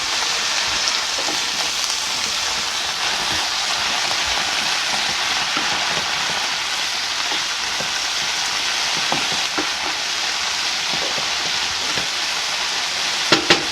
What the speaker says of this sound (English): We'll get just a little bit of water in there, steaming on down.